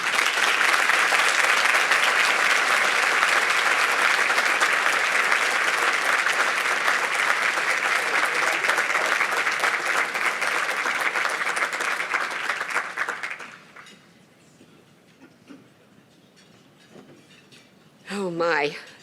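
An audience at an awards luncheon gives a Women Helping Women honoree loud, sustained applause that fills the room for about thirteen seconds, then fades into quiet room noise before a voice speaks.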